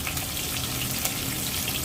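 Onions and chillies fry in hot oil left from frying hilsa fish, giving a steady, dense sizzle with no voices and no pauses.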